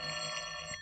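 An old-fashioned telephone bell rings steadily in a radio comedy drama, a continuous metallic jangle filling the short moment alone with no voices over it.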